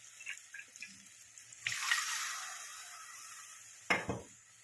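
Water left from boiling onions is strained and poured into a dish in a home kitchen, heard as faint splashes and a longer trickling pour with a couple of sharp clinks of the vessel, quiet and close.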